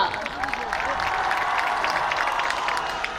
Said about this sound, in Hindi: जोरदार तालियों से स्वागत करते हैं दत्त साहब का।